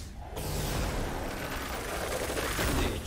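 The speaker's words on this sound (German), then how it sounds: "Jetzt versuch's mit einem aufgeladenen Schuss." A charged shot fires in the video game Ghostwire: Tokyo, a dense, loud burst of energy and crackle that starts abruptly after a brief quiet moment and sustains steadily to the end.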